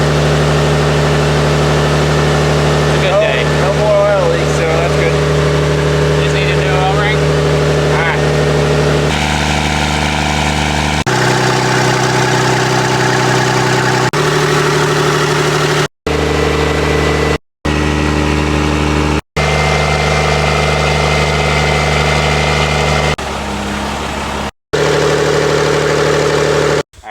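The Cummins engine in a Peterbilt 379 truck runs at high idle with a steady, loud, droning hum. A few abrupt cuts break the sound near the end.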